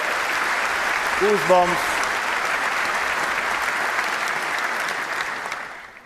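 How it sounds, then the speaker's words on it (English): Sustained audience applause fills a large hall at the Kennedy Center during a FIFA World Cup draw event, a dense steady clapping that fades toward the end, with a brief spoken word over it. "Can we clap hands for Maestro Bocelli once again?"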